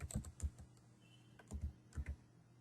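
Several quick bursts of typing on a computer keyboard, entering an SVN command at a terminal, with clustered keystrokes separated by short pauses, close and fairly quiet.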